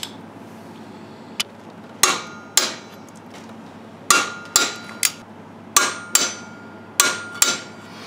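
A torque wrench set to 85 foot-pounds tightens the flywheel or flex plate bolts in a star pattern on a third-generation Camaro build, giving sharp, close metallic clicks, often in quick pairs, about a dozen in all, with no speech.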